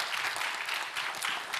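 Applause from an audience at an economics event, a short, dense burst of clapping with no voices on top, steady throughout.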